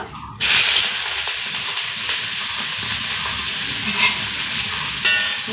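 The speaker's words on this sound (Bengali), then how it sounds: "তেলে দিয়ে দিব পেঁয়াজ কুচি আর কাঁচা লঙ্কা কুচি একসাথে দিয়ে দেবো" Chopped onion and green chilli hit hot oil in a pan, a sudden loud sizzle that bursts in after a short quiet start and then hisses steadily and close, with faint stirring scrapes and no talking.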